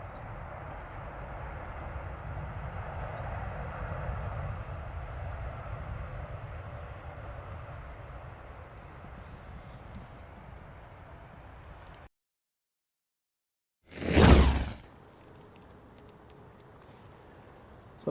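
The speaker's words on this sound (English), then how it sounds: "Saudi Dreamliner arriving earlier" A Saudi Boeing 787 Dreamliner comes in to land at Manchester on a stormy day, a long steady jet roar and wind rush at moderate distance, followed by a sudden cut to silence and then a loud close thump.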